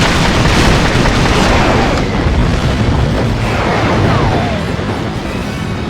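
A huge bomb explodes in the World War II flight game Secret Weapons Over Normandy during a D-Day mission. It gives a loud, sustained rumbling blast that fills the whole clip and slowly fades, with no speech over it.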